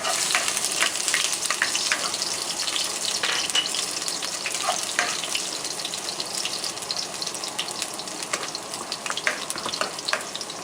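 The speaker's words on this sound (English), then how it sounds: "my wok at medium heat. As you can see, it's not on high, but I'll probably turn it to high later. And here we go. Starting with the garlic." Garlic fries in a wok over medium heat with a dense, continuous crackling sizzle. It is fairly loud and close, and scattered spatters and pops run through it without a break.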